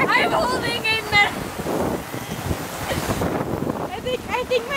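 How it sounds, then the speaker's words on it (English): Wind gusts and a rain storm roar around a camping spot, with a broad rushing noise under people talking and calling out nearby. "Maybe I shouldn't stand in the rain."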